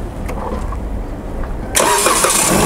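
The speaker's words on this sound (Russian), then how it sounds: "Первый запуск." A car engine at a car market cranks and fires up for the first time after transport, about two-thirds through, then settles into a steady, loud idle after a stretch of quiet background noise.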